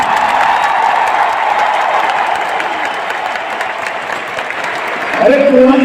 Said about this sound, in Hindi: उससे बड़ी तालियां हमारे महागुरु कंपनी के सीईओ एंड फाउंडर हमारे उदय संजीव सर के लिए जोरदार तालियां होनी चाहिए